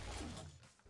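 Weapon reload in the Pixel Gun 3D shooter game, a short mechanical clack and ratcheting slide, loud at first and then fading, with a small click near the end.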